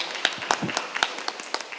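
Applause from the audience at the Jeju Forum, a short patch of scattered hand claps, fairly sparse and moderately close, with no talking over it.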